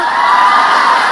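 A dense church audience at a sermon roars and cheers continuously, a steady wash of voices and whoops at close range with no pause.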